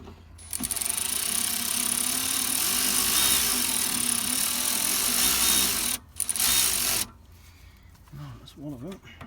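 A ratchet spins rapidly and continuously to tighten the rear brake caliper mounting bolts on a Honda Civic Type R, a close buzzing clatter with a short pause, then stopping as a voice speaks.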